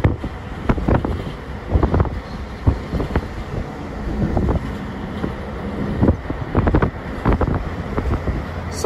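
Wind buffeting while driving a Fiat Palio 1.0 car on a road trip, a steady rushing roar with irregular gusty thumps against the microphone throughout.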